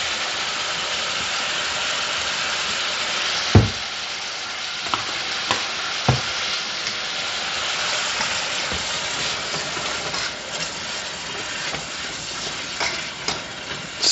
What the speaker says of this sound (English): So the onions are gonna cook down.